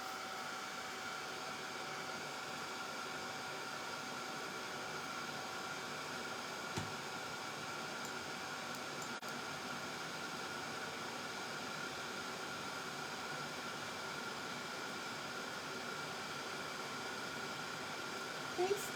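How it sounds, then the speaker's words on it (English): A handheld dryer blowing over craft medium on a Christmas door hanger, a steady even whoosh of air that holds unchanged throughout with a couple of faint clicks and no talking. "I'm going to just run the dryer over it"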